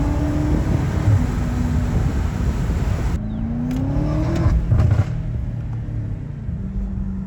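A high-power car running on an E85 fuel blend revs hard with the windows partly down, a loud, continuous engine roar with rising pitch sweeps that drops to a lower drone partway through.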